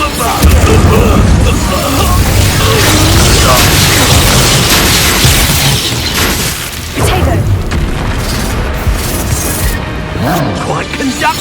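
Loud, booming spell explosions and crashing impacts from the Confringo fire spell in the Hogwarts Legacy video game, repeated bursts amid dense combat noise, with voices talking over the action.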